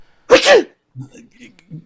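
A single sharp sneeze close by, followed by a few soft, brief vocal sounds.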